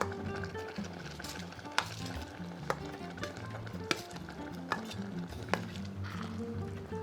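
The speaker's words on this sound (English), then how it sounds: "Okay, I'm gonna add my beef in." Beef frying in a pan on high heat, a low sizzle with repeated utensil clinks and scrapes against the pan at irregular intervals, close and fairly quiet, no talk.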